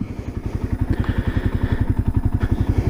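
A 1978 Kawasaki KL 250 motorcycle engine idles steadily nearby after a rebuild, its low, even putter thumping in a regular rhythm with no talking.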